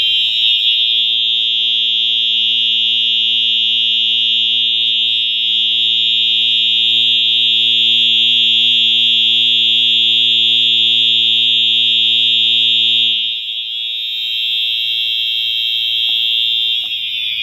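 A Wheelock EH-EL1-WI fire alarm blares at very close range with a steady, piercing electronic tone, holding continuously for over ten seconds before shifting to a slightly different pitch near the end.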